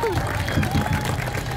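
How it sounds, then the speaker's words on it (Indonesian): Audience at a street busking show claps and cheers in a dense, steady wash of applause that holds for the whole moment, with crowd noise mixed in. "Tepukan paling gemuruh sekali lagi untuk mereka tuan-tuan"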